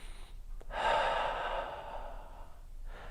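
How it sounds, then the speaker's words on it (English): One slow, steady breath drawn in through the nose during a runners' mobility stretch, a soft, close airy rush lasting about two seconds after a brief catch, with no talking. "really focus on breathing in through the nose"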